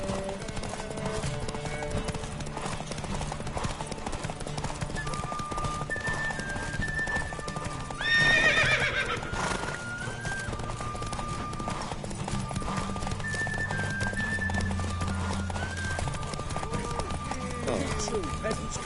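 Roach the horse gallops in a derby race in The Witcher 3, with steady, rhythmic clip-clopping hooves all the way through, a brief whinny in the middle, and people talking over it.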